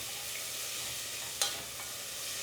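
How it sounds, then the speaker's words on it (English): Food sautés in a pan with oregano and a bay leaf, a soft, faint steady sizzle with one brief scrape or clink of stirring partway through. "And give this a nice saute."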